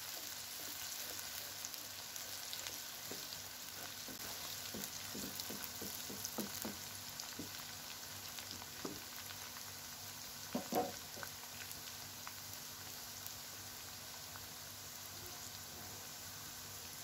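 Chopped green chillies fry in hot oil with a continuous soft sizzle, broken by scattered stirring clicks and spatters at close range, with no talk.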